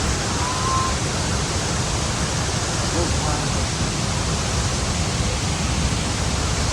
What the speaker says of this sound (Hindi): साउंड तो सुन सकते हैं आप लोग, पानी किस तरह से गिर रहा है।